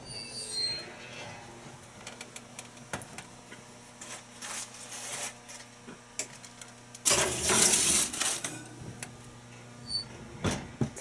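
Aluminum foil crinkles and rustles as it is pulled over a baking dish of layered dinner casserole in a home kitchen, scattered crackling throughout and a louder, dense burst of crumpling near the end.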